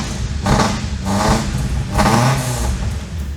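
An old Toyota Tacoma with a new exhaust revs three times in quick succession, each blip a raspy, loud swell over a rumbling idle, close to the tailpipe and without talk.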